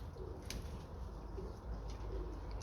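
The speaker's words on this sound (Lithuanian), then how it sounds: "turiu šitų paukščių" Pigeons cooing softly in a few low, rolling calls spread across the stretch, with a faint chirp and steady background noise; no one speaks.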